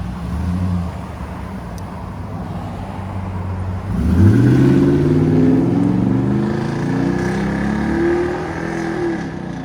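Ford F250 Super Duty pickup with a 6.2L V8 and Flowmaster Super 10 true dual exhaust into 3.5-inch tips, idling with a deep burble and then revving up loudly in a rising, sustained roar that holds and eases off, close by.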